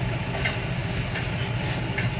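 A train rumbles past a railway level crossing, a steady low roll of wagons with faint rhythmic clatter that holds even throughout.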